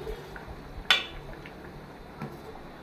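Salt is stirred into a mackerel curry in a pot, giving one sharp clink of a spoon against the pot and a fainter tap later, over a low steady background.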